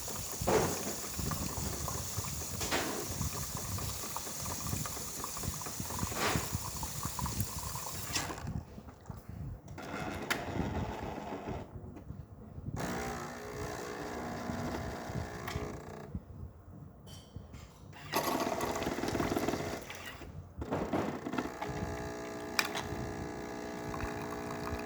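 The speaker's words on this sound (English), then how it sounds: "Good foam coming out of the machine." A Jura Impressa XJ9 coffee machine with newly replaced burrs dispenses foam from its spout, a hissing, gurgling flow with mechanical whirring that stops and restarts in several bursts.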